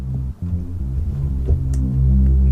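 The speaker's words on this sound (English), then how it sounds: "So I did this little pad here with Serum." A low synth pad built in Serum from a saw wave with unison and distortion, its top end trimmed by EQ, sustains as a thick, loud droning chord that swells slightly toward the end.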